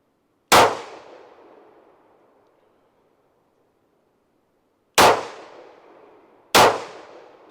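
Three sharp pistol shots from a CZ 52 firing Tokarev rounds outdoors, each a loud crack with a trailing echo, the first standing alone before a long pause and the last two coming about a second and a half apart.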